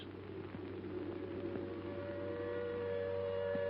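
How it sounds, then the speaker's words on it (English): A steady, droning siren tone holds throughout, sustained and fairly loud with a low mechanical hum underneath and no voices. "Then the air raid siren wails again"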